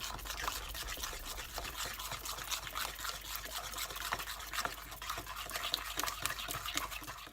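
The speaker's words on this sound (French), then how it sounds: "puis on remue le tout énergiquement" Jam tart batter with oil and a pinch of salt stirred energetically in a bowl, a fast continuous wet scraping and swishing close up, fairly quiet, with no talk.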